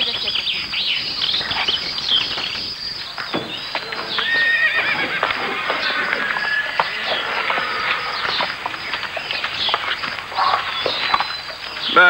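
A horse neighs loudly and whinnies while its hooves clip-clop steadily nearby, with faint birds and insects in the outdoor background.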